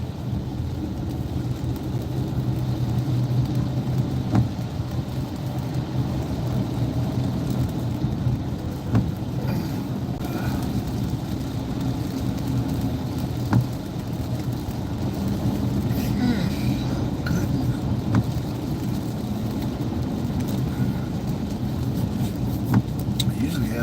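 Steady road rumble from inside a moving car stuck in heavy traffic in Houston, a continuous low drone with occasional faint clicks and bumps, while a voice talks over it intermittently.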